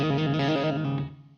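An electric guitar on the bridge pickup played through a Sabbadius JIMI Fuzz v2 pedal: a thick, buzzing fuzzed chord stab that rings briefly, then decays into quiet.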